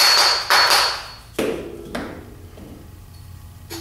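A mallet strikes a metal tube in a workshop, producing several sharp, close knocks at irregular intervals, the first ones loudest, with ringing tails fading between hits.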